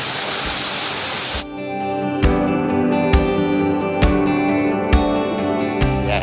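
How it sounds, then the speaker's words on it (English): A waterfall on the South Junction loop in the Blue Mountains, running full after rain, pours as a steady broadband rush that fills the first second and a half before a sharp break to a quieter, tonal stretch with regular clicks. "Wow, the first of 4 waterfalls on the South Junction loop."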